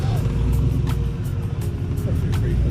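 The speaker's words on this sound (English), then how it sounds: "Truck." An old-school truck rumbles past at a morning cars-and-coffee meet, a steady low engine drone holding throughout with a faint rev, while people chat nearby.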